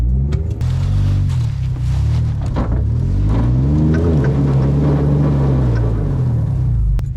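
A 4x4 engine revs hard and steady while climbing a snowy ledge, a loud close rumble whose pitch rises and dips as the throttle varies, with no talking.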